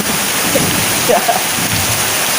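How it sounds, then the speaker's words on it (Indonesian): Heavy rain pours down in a steady, loud, dense wash of noise that continues throughout without a break. "hujannya lebat sekali"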